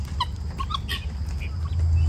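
Chickens cluck in short, close bursts following a person around a farmyard, with a low rumble of background noise beneath the calls.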